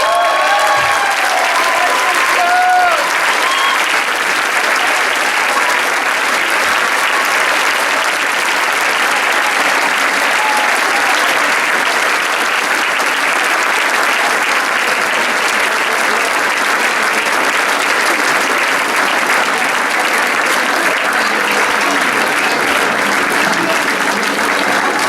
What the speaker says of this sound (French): il faudrait qu'on les applaudisse très fort parce qu'elles ont bossé aussi comme des dingues